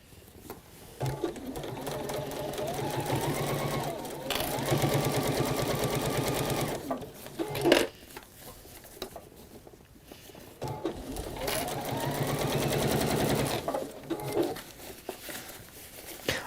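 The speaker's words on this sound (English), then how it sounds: "I just keep stopping and rearranging my fabric so I'm always sewing in that straight line." A sewing machine stitches fabric in several bursts of steady, fast mechanical whirring, stopping between runs while the fabric is repositioned, close and clear with little else around.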